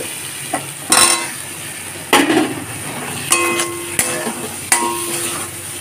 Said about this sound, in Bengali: এখন আলুগুলোকে দিয়েও কষে নেব